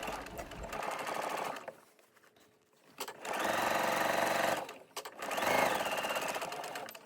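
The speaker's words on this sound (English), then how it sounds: "And then all I need to do is top stitch it down." A sewing machine top stitches facing binding down on a vintage quilted oversized jacket, running in three steady bursts separated by short pauses, loud and close with no talking.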